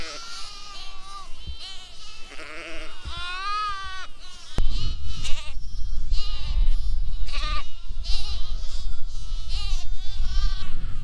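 Sheep and lambs bleating in an open field during lambing season, with many overlapping calls near and far, some high lamb bleats and deeper ewe calls, over steady outdoor background noise.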